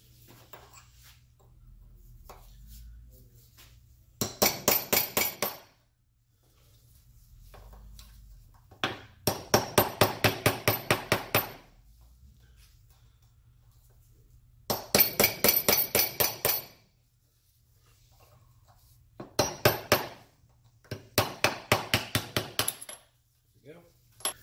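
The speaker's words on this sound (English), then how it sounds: "You might have to tap it a couple times with a hammer, but it will move down." Hammer tapping on the seal head of a KTM/Husqvarna motorcycle rear shock, bright metallic taps in quick clusters of about five to eight, repeated in six separate bursts with quiet pauses between, close and clear.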